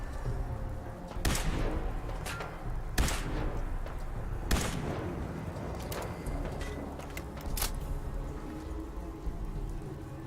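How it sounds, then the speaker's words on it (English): Gunfire in Fallout 4, several sharp cracks spaced a second or two apart over a rumbling, busy game backdrop, moderately loud. "Some gunfire from over here too."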